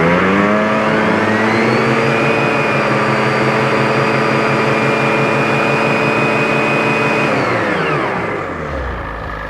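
Ski-Doo turbo snowmobile engine with its muffler, held at a steady 6,500 RPM: a loud, close, continuous droning whine with turbo whistle that holds for several seconds and then winds down at the end.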